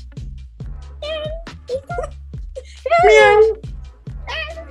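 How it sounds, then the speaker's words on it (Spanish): A cat meows several times up close, short rising calls followed by one longer, louder drawn-out meow, with a voice speaking briefly among them. "¡Otro gato!"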